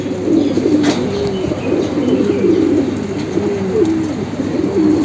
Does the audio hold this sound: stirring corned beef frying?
no